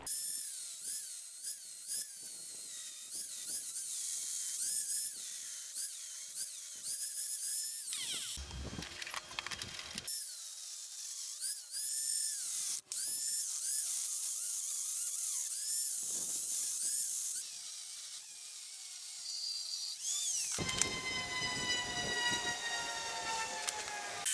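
A power tool cutting and grinding sheet metal for a mini K-type rocket stove gives a loud, continuous high-pitched whine that wavers with load, broken by short gaps and a harsher stretch near the end.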